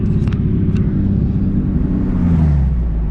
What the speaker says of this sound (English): Just a little quick, little small footage of me driving my car.